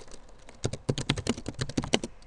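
Fingers type on a computer keyboard in a quick, uneven run of close, light key clicks with no voice over them.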